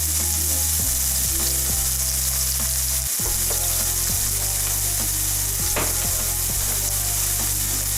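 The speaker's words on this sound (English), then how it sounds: "cook the onions until they are softened" Chopped onion frying in a pan, a loud continuous sizzle and crackle that stays dense throughout, with low tonal hums shifting underneath and no talking.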